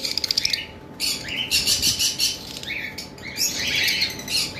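A pair of blue wing opaline lovebirds chirps close by with rapid, shrill tweets and squawks in overlapping bursts, some brief wing flutter at the start.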